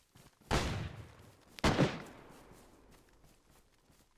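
Two sharp, loud gunshots in the DayZ video game, about a second apart, each followed by a fading echo, with faint footsteps between them.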